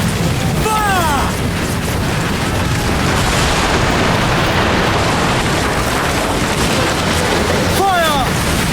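Ship cannons firing broadside in Assassin's Creed Black Flag at sea, heavy booms and blasts over a constant roar of wind and water, with shouted commands from the crew throughout.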